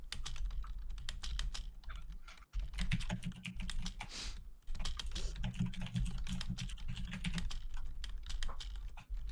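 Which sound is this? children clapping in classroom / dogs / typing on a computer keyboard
typing on a computer keyboard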